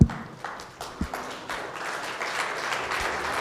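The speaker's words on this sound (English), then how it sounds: "Why doesn't everybody stand up and give those people a hand" Applause from a seated audience greeting guests at a university conversation event, scattered claps building into steady clapping with some thumps and crowd noise, moderately distant.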